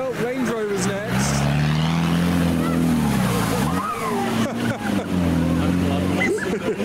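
A Range Rover's engine revs hard and drones as it pushes through a deep ford, with a crowd murmuring and calling out around it.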